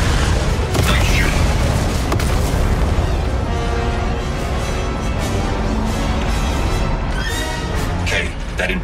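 Turret blowing up in the Star Wars: Outlaws video game, a dense booming blast with rumbling debris and layered bursts over continuous battle noise, while a voice talks over the action.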